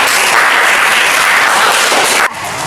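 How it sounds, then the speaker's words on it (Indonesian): An audience applauds during a food processing technology lesson, a loud, dense wash of clapping that cuts off abruptly near the end, leaving quieter room tone. "Kita kasih tepuk tangan ya untuk Mbak Alicia"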